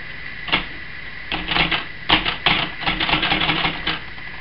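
Keys clack on a Hermes 3000 portable manual typewriter, crisp close-up strikes coming in short irregular bursts with brief pauses between them.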